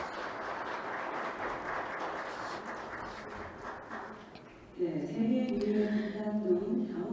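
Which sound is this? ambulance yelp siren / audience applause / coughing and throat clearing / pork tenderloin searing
audience applause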